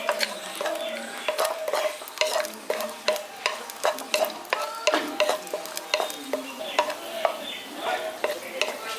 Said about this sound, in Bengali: এবার ঘিয়ের মধ্যে দিয়ে দিচ্ছি আমি এখানে কাজু বাদাম